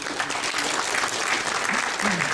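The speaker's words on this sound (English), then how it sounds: "So I think we should applaud these individuals." Audience applause fills a conference plenary session at the 2014 IEEE IFCS, a dense, steady clapping from a large crowd that holds at an even loudness throughout.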